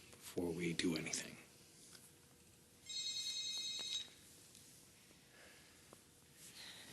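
A telephone rings in one bright, electronic burst lasting about a second, heard indoors in a TV soap-opera scene. A short stretch of speech comes before it, with quiet room tone afterward.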